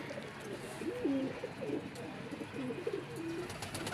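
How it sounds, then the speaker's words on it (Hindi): A Teddy cross pigeon coos softly, a series of low throaty coos repeating across a few seconds, faint against a quiet background. "ये टैडी क्रॉस कबूतरी है, पट्टी है"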